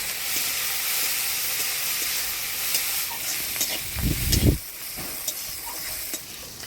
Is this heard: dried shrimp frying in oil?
yes